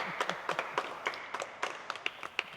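Children clapping together in a group, about a dozen fairly quick, slightly uneven claps in a loose rhythm, moderately close and alone without talking.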